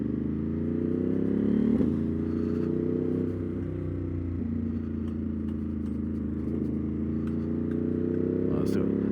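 A Ducati Monster motorcycle engine drones steadily while riding, a loud close low rumble with slight shifts in pitch, under a voice talking over it.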